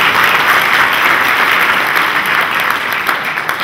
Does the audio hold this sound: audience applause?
yes